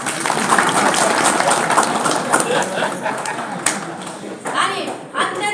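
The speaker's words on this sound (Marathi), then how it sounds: "टाळ्या।" Audience applause at a Shiv Sena political speech in Phaltan, a dense, steady wash of clapping from a crowd that carries on for several seconds and thins out toward the end.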